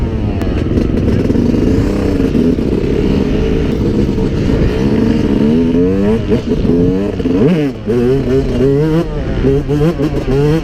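A 250cc motocross dirt bike rides on a track, its engine close and loud with repeated revving and gear-change pitch sweeps, throttle blips and brief dips, with a voice heard faintly underneath.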